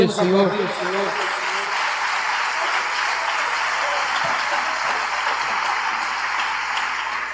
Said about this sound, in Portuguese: Podemos aplaudir o Senhor?